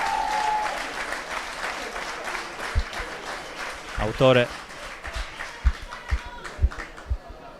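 Dense crowd applause for Nuorese Calcio captain Fabio Cocco at an Eccellenza football match against Taloro Gavoi, tapering into scattered claps while a commentator talks over it.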